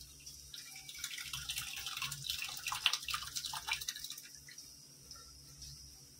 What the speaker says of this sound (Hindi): इसमें हम डालेंगे दूध, हम डालेंगे दूध को।